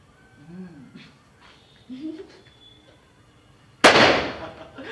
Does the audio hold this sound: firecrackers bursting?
yes